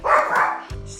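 A dog in a home with several dogs barks loudly and close by, giving a short burst of yapping barks within about one second.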